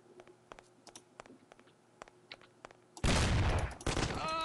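Shotgun gunfire in the video game Mafia erupts as a loud, sustained blast after a stretch of quiet clicking and tapping, then rumbles on to the end.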